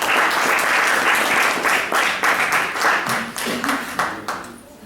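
An audience claps loudly and steadily for a few seconds to welcome a speaker at a talk on criminal law theory, with the applause thinning out toward the end.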